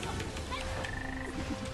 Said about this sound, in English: Oh, the frogs are coming.